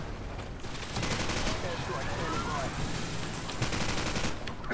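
Rapid video game gunfire, loud bursts of automatic shots crackling in quick succession through most of the stretch, with voices talking over it.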